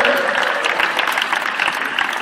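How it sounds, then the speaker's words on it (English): At a stage hypnotist show, an audience gives a loud, continuous round of clapping as volunteers return to their seats, with a faint murmur of voices mixed in. "Give them a big hand as they go."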